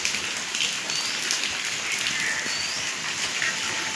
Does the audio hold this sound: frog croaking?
no